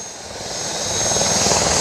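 A helicopter's engine and rotor roar up steadily and loudly at a village fair, a dense whine and wash that swells as it starts and lifts off, with no talking.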